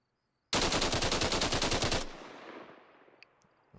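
An FN SCAR rifle fires fully automatic in the Arma Reforger video game: a loud, rapid burst of about twenty shots lasting roughly a second and a half, followed by a long fading echo tail.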